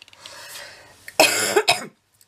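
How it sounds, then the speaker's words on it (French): A woman coughs indoors in a quiet room during a scrapbooking album tutorial. Soft rustling comes first, then two sharp, close coughs in quick succession, and the room falls silent afterwards. "je vous dis que je toussais presque plus, mais je tousse encore."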